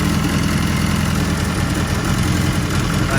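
A car engine idles steadily with a small exhaust leak at the top, making a loud, continuous, close rumble with no talking.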